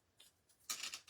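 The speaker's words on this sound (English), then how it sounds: "scratch them with your scissors, just rough them up a bit." Scissors scraped along paper edges to rough them up during a papercraft home decor project, a few quiet, brief scratchy strokes heard close up with no talking.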